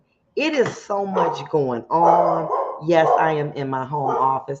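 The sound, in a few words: speaker's dog barking in home office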